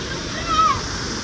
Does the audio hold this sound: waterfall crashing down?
yes